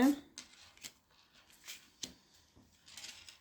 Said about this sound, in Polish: Ja po rozkładam sobie te karty.